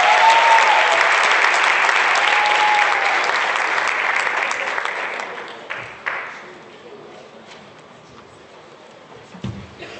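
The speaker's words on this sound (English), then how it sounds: "Give a round of applause." Audience applause welcoming an incoming university vice chancellor at an Africa Day event, loud and sustained for about five seconds before thinning into scattered claps and fading, with a few late claps near the end.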